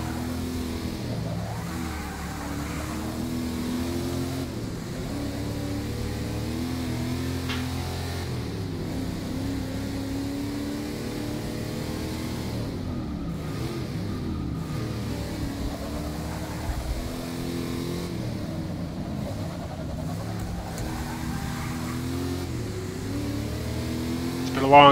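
Engine of the Rockford Files car racing in Forza Motorsport 6, a steady mid-pitched growl that rises and falls with shifts and revving, moderately loud and sustained throughout.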